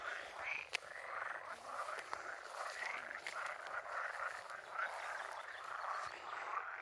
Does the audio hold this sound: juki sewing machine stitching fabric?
no